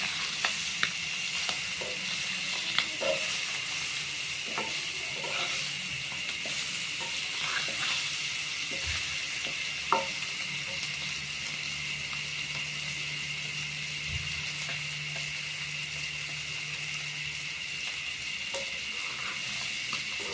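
Small pieces of rohu fish frying in a pan, giving a continuous, even sizzle throughout with occasional soft taps and stirring sounds.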